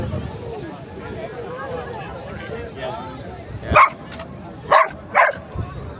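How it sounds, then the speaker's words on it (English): A dog on a riverside bridge at Otley barks three loud, close, sharp times in quick succession over a murmur of outdoor background noise and distant chatter. "There's a dog that's got a good mouth in it here as well."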